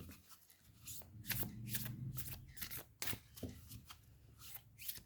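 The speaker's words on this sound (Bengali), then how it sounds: "আমি দুটো সেট ওরাকল কার্ডের থেকে একটি একটি করে কার্ড নিয়ে নেব" Oracle cards being shuffled and drawn by hand, a series of close, crisp riffling and slapping bursts with short pauses between, quiet and without talk.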